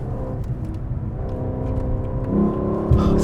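A 2021 Lexus LC500 with the performance package accelerates hard into a corner, its engine rumbling steadily and rising in pitch as it builds revs, heard from inside or close by with no talk over it.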